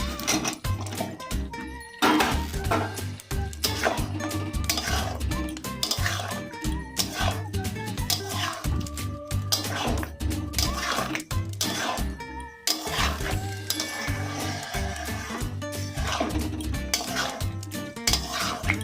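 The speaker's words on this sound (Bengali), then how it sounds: "গ্রেভিটাকে চিকেনের সঙ্গে ভালো করে মাখিয়ে নিতে হবে" Spoon scraping and clinking in a pan as chicken is stirred into a chili gravy, with steady metallic knocks and scrapes, close and fairly loud, continuing throughout.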